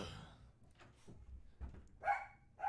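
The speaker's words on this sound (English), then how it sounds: "Sorry for the interruption. The dog." A dog gives a few short, muffled barks and whimpery yips in a room, moderately close and fairly soft.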